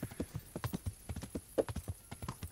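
Horse hooves clip-clopping in the video game Kingdom Come Deliverance, a quick steady run of close, distinct hoofbeats heard alone.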